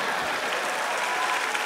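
Audience applause for a magic act on Asia's Got Talent, a dense, steady burst of clapping from a large crowd filling the hall.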